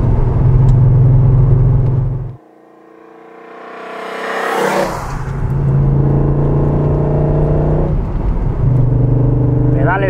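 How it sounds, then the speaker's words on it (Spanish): Third-generation Volkswagen Golf with a V6 engine, a loud steady engine drone that drops away briefly, then rises again in a swelling rev before settling back to a sustained hum, with talking over it. "te acompaña el sonido del V6"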